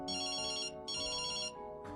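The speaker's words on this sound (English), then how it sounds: "The phone rings." A telephone rings in repeated electronic bursts, two full trills and the start of a third, steady and clear with no voices.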